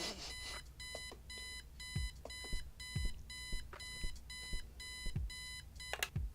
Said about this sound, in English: Let's turn off alarm clock.